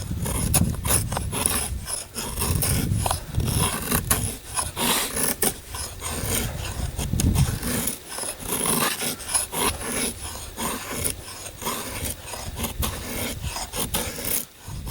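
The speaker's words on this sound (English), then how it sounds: "making shavings really well for a fat edge. Wow. And you can probably still hear that wood" A Kubey Sicario D2 steel survival knife carves shavings from frozen wood in winter snow, making repeated close, gritty rasping scrapes in a steady stroke-by-stroke rhythm.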